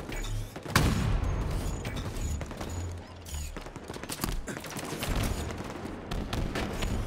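Halo gunfire at a grand final esports match, sniper rifle in play, with heavy overlapping shots, bursts and booms throughout under a busy mix of game sounds.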